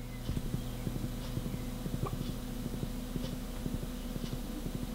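Horse hooves clip-clopping in the farming video game Stardew Valley: a quick, regular patter of light hoofbeats over a low, steady game backdrop, with no talking.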